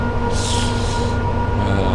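Inside a Class 86-hauled sleeper train climbing over Shap on the West Coast Main Line, a dense, continuous rumble of wheels and motors fills the carriage, with a faint hiss of wheel squeal above it and no talking.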